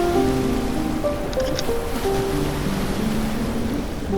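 Steady rain falls along a coastal walk, a continuous broadband wash that stays loud and even throughout, with no voices.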